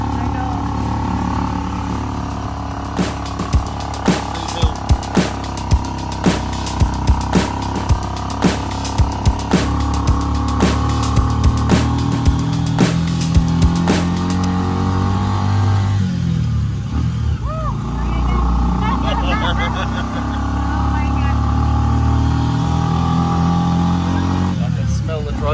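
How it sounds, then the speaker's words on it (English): A motorized tricycle engine labors uphill on a storm-soaked road in Siargao, droning steadily with a run of rhythmic pulsing knocks, then easing off; voices talk over it. "The tricycle is struggling."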